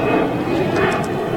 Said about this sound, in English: Oh, he's coming in this runway